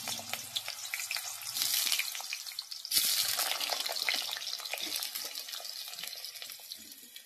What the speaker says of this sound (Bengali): এরপর এই তেলে আমি আলুগুলো ভেজে নিচ্ছি।